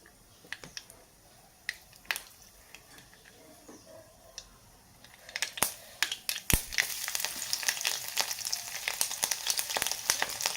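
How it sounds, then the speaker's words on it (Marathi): Mustard seeds spluttering in hot oil for a tempering, with sharp crackling pops that are sparse at first and then build into dense, rapid popping over a steady sizzle. "आता आपण त्याच्यामध्ये फोडणीसाठी मोहरी घालूया आणि मोहरी चांगली तडतडली की आपण त्याच्यामध्ये लसण घालूया फोडणीमध्ये"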